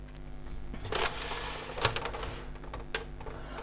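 Brother AX-15 electronic typewriter printing: bursts of quick mechanical taps and clacks, fairly close but moderately quiet, clustering in short runs with brief pauses between them.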